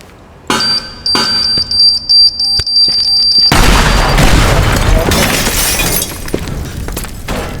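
A bomb blast in the video game Teardown blows out a wall with a sudden loud boom, then a sustained crash of shattering glass and collapsing debris. Short sharp crackles and an electronic beep come first.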